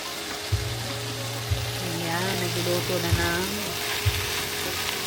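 Pancit noodles fry in a pan with a loud, steady sizzle and crackle, close by, while a few sharp knocks of a utensil against the pan punctuate it and a voice talks faintly underneath.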